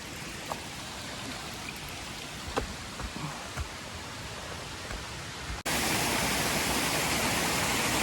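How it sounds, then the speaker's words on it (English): A small cascade off the beaten track around Carrajung and Blackwarry gives a soft steady trickle with scattered droplet ticks, then abruptly jumps to a louder, denser rush of water for the last couple of seconds. "Another small little waterfall, a cascade I guess you'd call it."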